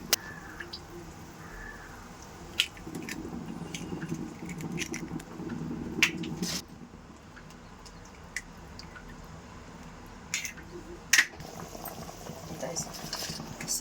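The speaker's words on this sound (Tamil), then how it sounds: "நல்லா கொதிக்குதுங்க." Semiya broth boiling hard in a pan, a steady close bubbling and popping that runs throughout with small splatters and a few sharper clicks, no voices.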